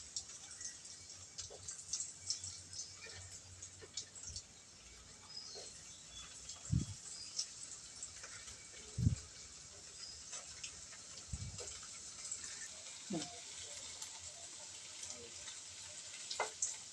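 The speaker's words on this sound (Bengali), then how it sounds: "একে একে ছানাগুলো ভেজে নেব ছানাগুলো আমি একে একে দিয়ে দিচ্ছি" Pieces of chhana (paneer) frying one by one in hot oil for a potato and soybean dish, a steady faint sizzle with a few soft drops and knocks as pieces go in.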